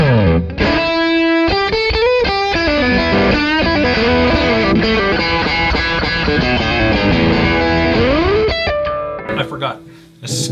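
Electric guitar played through a Pinnacle pedal, a thick, saturated distorted tone with lingering delay trails, loud riffing chords and single notes for about nine seconds before fading into a ringing tail.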